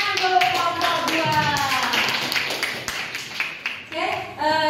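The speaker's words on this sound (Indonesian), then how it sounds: "Beri tepuk tangan untuk kelompok 2" Students clapping in a class of an Islamic junior high school, honoring a student group after their presentation; a ragged burst of hand claps with children's voices and chatter mixed in throughout.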